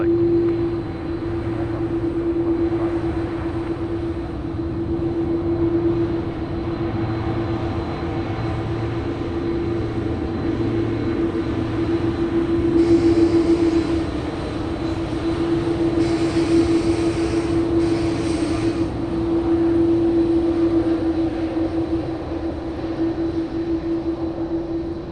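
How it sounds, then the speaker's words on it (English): Airbus A330 airliner taxiing past at Sydney Airport, a steady loud engine drone with a prominent whine that holds throughout and swells slightly midway, close by. "A330 now taxiing past us at Shaps. Going to get loud."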